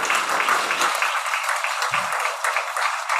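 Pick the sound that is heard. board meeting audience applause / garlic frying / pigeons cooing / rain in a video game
board meeting audience applause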